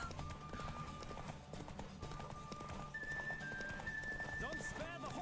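A horse gallops in The Witcher 3: Wild Hunt with steady, rapid hoofbeats running throughout, mixed with game music and spoken character dialogue over the top.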